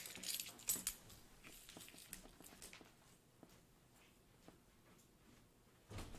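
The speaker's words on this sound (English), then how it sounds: "Let me give him the keys." Car keys jangle and clink in a burst as they are handed over indoors, followed by faint rustling and small taps, with a brief clatter again at the end.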